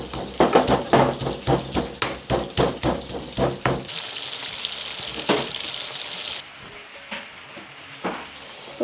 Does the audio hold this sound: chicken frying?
yes